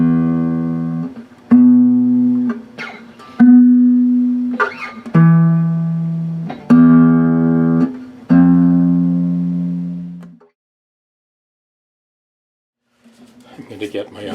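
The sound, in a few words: Gibson guitar played for a tuning check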